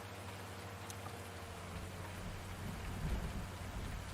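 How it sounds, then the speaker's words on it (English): Steady rain falls in the farming video game Farming Simulator 19, a dense, even hiss that swells slightly near the end with a low rumble, no voices. "it is really raining now."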